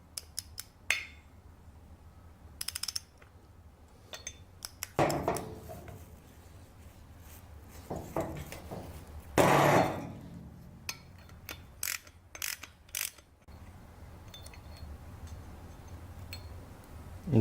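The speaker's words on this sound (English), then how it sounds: "I'm going to use a 12 millimeters nut socket with a ratchet" A ratchet with a 12 mm socket works on the flywheel nut of a two-stroke engine from a 1/5 scale HPI Baja. Scattered quick clicks and metallic taps come close up, with brief rustling handling noises in a quiet room.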